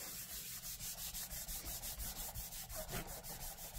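A piece of card is burnished by hand, rubbed in quick, even back-and-forth strokes that make a soft, rhythmic scratchy swish, close and quiet with no talking.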